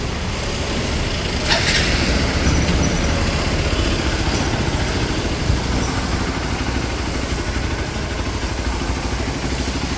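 Hero Xpulse 200 4V 2023 rally motorcycle engine idling steadily, a continuous close mechanical chatter with no change in pace and no talk.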